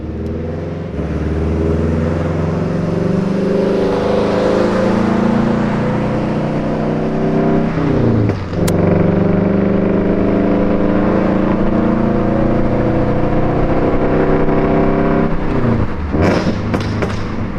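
A Subaru BRZ engine revs hard and loud and close, climbing in pitch, then drops sharply at two gear shifts before pulling up again, with a brief high whine near the end.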